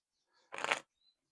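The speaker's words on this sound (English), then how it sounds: "So shuffle this and get a few more." An oracle card deck being shuffled, one short papery riffle of cards about half a second long, near and fairly quiet against near silence.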